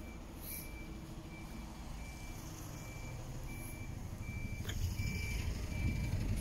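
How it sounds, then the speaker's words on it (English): Recycling trucks reversing at a recycling plant, a regular electronic beep repeating about every second over a steady rumbling diesel engine and low traffic noise, growing slightly louder toward the end. "all of the recycling trucks there coming in to be emptied and sorted"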